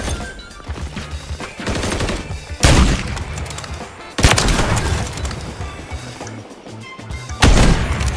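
Three loud sniper rifle shots crack in a shooter game, spaced roughly two seconds apart, each a sharp blast with a rolling tail, over background game noise and faint chatter.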